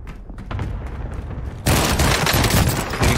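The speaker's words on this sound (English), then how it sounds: "Getting shot at." Gunfire rattles in Call of Duty Warzone on Rebirth Island: muffled, distant shots at first, then a sudden loud, close burst of rapid automatic fire that keeps going.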